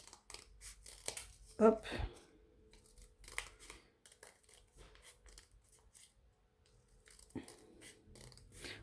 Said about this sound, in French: Donc, là, je vais venir découper.